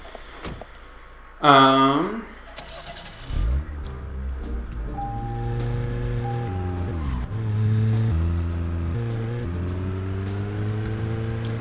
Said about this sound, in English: I don't know why I expected the car to slow down more than it did.